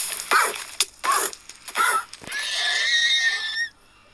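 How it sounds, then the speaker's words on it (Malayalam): A horse in a survival video game lets out a sharp, wheezy whinny after being hit, with a few short grunting bursts first and then a sustained high neigh lasting over a second. "എൻ്റെ കുതിരയെ അടിച്ച സൗണ്ടാണല്ലോ കേട്ടേ"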